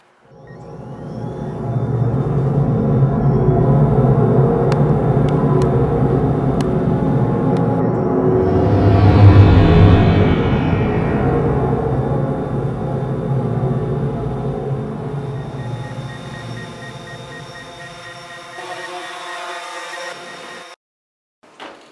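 Drone flying outdoors, a steady loud whirring drone holding for about twenty seconds, rising briefly in pitch as it passes, then fading and cutting off abruptly.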